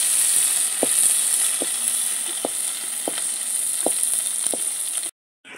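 Prawns fry lightly in hot oil with a constant bright sizzle, punctuated by soft, evenly spaced taps of a utensil, before the sound cuts off abruptly near the end.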